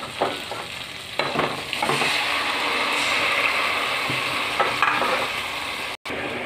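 Taro leaves go into a hot pan with chopped tomato and sizzle steadily, with bursts of stirring and scraping throughout, loud and close, with no talk.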